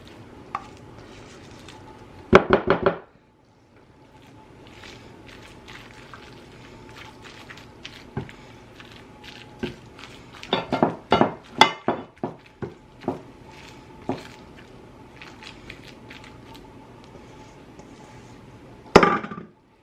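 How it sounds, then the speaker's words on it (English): Food tipped into a casserole dish in a home kitchen, heard as a few close clattering clinks and soft thuds near the start, then scattered scraping and tapping, with one more sharp clink at the end. "I'm just going to dump this in here into my casserole dish"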